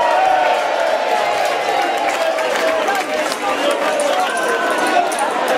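Audience applause and cheering in a hall at a village carnival artists' event, a loud continuous roar of crowd clapping and shouting with chatter mixed in, held steadily throughout.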